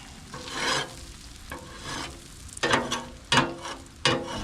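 Eggs cooking on a Blackstone griddle beside hash browns, a continuous sizzle broken by several scraping, rasping strokes of a spatula across the flat metal surface, close and without voices.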